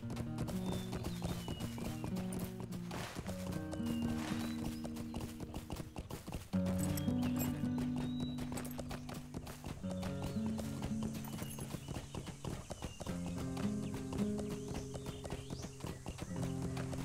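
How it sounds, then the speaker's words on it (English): A horse in Lord of the Rings Online clops along steadily near waterfalls and a wagon, with a neigh cutting in, all over layered game music and without speech. "I feel like we should free this horse."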